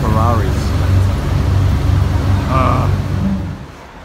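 Ferraris crowding a street in Edinburgh, heard as a loud, steady low engine rumble with passing traffic and brief voices over it, fading near the end.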